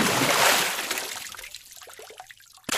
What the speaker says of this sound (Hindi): ये साउंड तब आती है जब हम पानी में कुछ फेंकते हैं